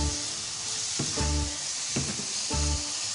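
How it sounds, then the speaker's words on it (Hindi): Finely grated ginger sizzles loudly as it hits a pan of frying masala for a carrot dish, with steady crackling broken by three stirring pulses, no talk. "अब इसमें हम अपना अदरक डालेंगे,"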